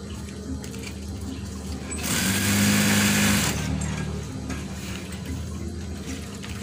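A sewing machine runs slowly while stitching an eyelet curtain, giving a close, continuous mechanical whir with a louder stretch in the middle.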